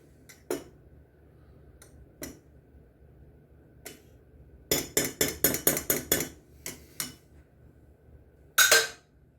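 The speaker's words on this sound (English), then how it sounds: "And we'll give that a good mix." Utensil scraping and clinking against a bowl while salmon cake ingredients are mixed, a run of sharp, rhythmic taps and scrapes with a few isolated knocks before and after, close and moderately loud with no talking.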